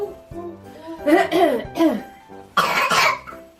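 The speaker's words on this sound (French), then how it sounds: "Tu tousses?" A child coughs several times in quick bursts, close to the listener, with a little voiced, giggly sound mixed in.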